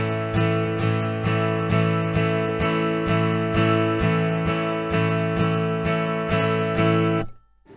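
Acoustic guitar strums a strumming pattern in an even, driving run of repeated chords, about sixteen evenly spaced strokes, loud and close, before it stops abruptly.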